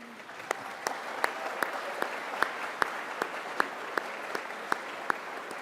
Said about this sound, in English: Let's give your supporters a big round of applause.